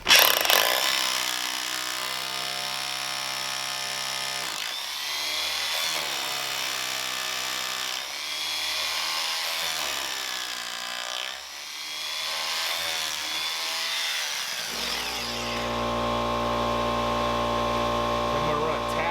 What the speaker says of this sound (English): Hilti hammer drill.